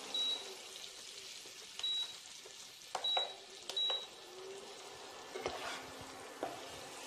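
Ridge gourd frying in a pan with a little sugar added gives a faint, steady sizzle with a few soft clinks and stirring scrapes scattered throughout.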